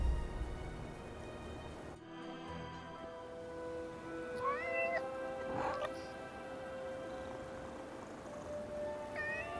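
A cat meows in the video game Forspoken, with a few short mewing calls set against steady rain-like ambience and soft musical tones, fairly close and moderately loud.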